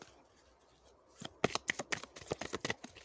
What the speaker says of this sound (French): On va tirer une carte.